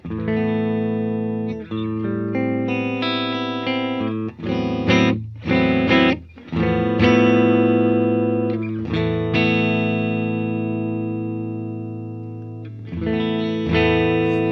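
Clean electric guitar played softly through a Distressor compressor set to 4:1 with the detector high-pass and the distortion 3 setting, with sustained chords and single notes ringing with a few brief pauses.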